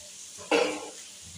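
Vegetables, beans and capsicum for paneer fried rice, stirred in a hot frying pan: a quiet background, then one sudden sizzling scrape of the spatula that fades out over about half a second.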